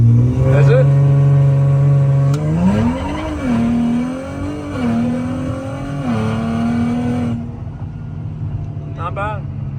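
Nissan Z making an aggressive launch-control start with spinning tires: a loud, close engine holds a steady high rev, then surges and wavers as the car launches and the tires spin, with voices talking over it.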